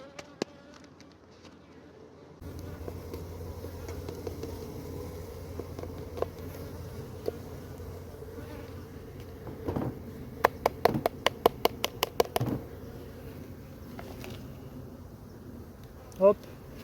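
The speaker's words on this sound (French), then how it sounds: "les abeilles sont toujours entre le bocal et le panier" Honeybees in a jar shaken with powdered sugar for a varroa mite count give off a soft, continuous buzzing, joined by faint handling knocks and a brief burst of rattling clicks near the middle.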